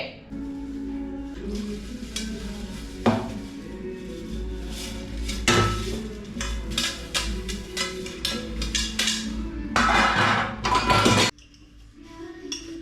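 Dishes and cutlery clatter and clink repeatedly, with scraping and running-water bursts, loud and close, in irregular busy stretches.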